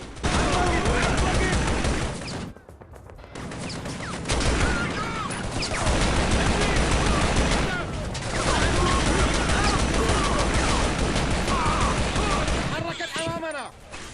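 Video game firefight in Shadow Ops: Red Mercury, with dense, continuous gunfire and bursts of automatic fire alongside allied soldiers, broken by two short near-silent gaps and a sweeping effect near the end.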